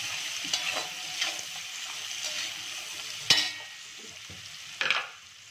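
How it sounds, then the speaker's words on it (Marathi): Onions sauté in hot oil for egg biryani, a soft continuous sizzle with several sharp stirring scrapes and clinks of a spoon against the pan. "कांदा चांगला परतून घ्यायचा तेलामध्ये"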